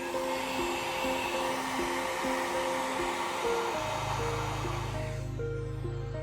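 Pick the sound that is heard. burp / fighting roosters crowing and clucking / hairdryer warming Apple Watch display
hairdryer warming Apple Watch display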